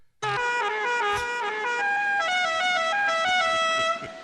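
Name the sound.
horn honking sound effect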